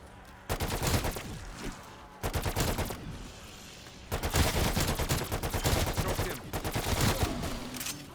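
An HK21 machine gun fires in Call of Duty Cold War Zombies: three loud, sustained automatic bursts with rapid, even shots, separated by brief pauses.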